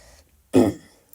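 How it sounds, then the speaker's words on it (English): A single short, throaty clearing of the throat, close and fairly loud, set between brief silences. "I keep, doing that to clear my throat."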